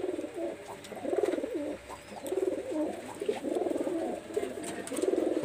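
A breeding pair of Pakistani highflyer pigeons coo close by in repeated rolling bouts, about four or five phrases over a few seconds, against a faint background hiss.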